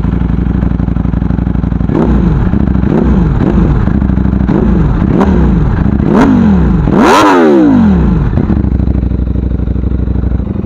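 Close and loud, a Ducati Streetfighter V4S with a full-system exhaust idles, then takes a series of sharp throttle blips that rise and fall before one longer, harder rev.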